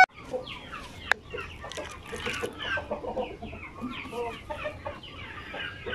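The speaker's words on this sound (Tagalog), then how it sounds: "Producer natin na malaking hen." Several hens cluck and chatter nearby on a chicken farm in the Philippines, busy overlapping calls with faint background farm noise and no clear talk.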